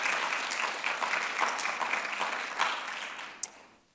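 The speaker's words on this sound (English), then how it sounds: "I think that deserves some applause," Audience applause at an occupational therapy induction ceremony, a dense round of clapping from a seated crowd that tapers off after about three seconds.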